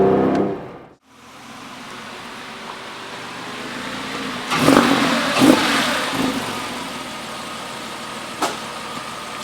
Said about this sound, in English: You can hear that carbon fiber intake. It sounds amazing.